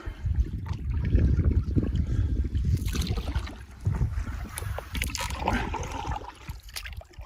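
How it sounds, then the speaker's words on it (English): Water collected from a lake by a solo camper on a fall trip, with close splashing, sloshing and trickling interrupted by brief pauses, plus some wind noise on the microphone. "So I'll fill up with water here too."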